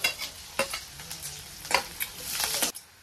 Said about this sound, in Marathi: त्याच तेलात हिरवी मिरची आणि कढीपाला पण टाकून घेणार आहे